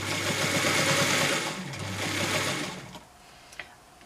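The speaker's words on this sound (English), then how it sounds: "As I haven't got a free arm, I'm sewing it on from the inside." A sewing machine stitches an oven mitt from the inside, a close steady whirring hum of rapid stitches that runs for a few seconds, slows and then stops, followed by a small click.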